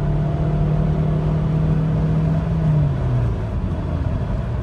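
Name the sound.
Alfa Romeo 156 1.9 JTD diesel engine revving toward rev limiter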